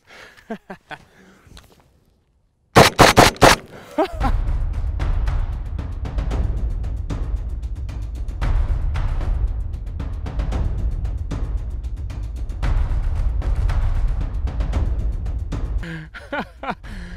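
An AK rifle firing hollow-point rounds into a pumpkin: a quick cluster of about four loud, sharp shots, followed by a long stretch of dense, rumbling noise.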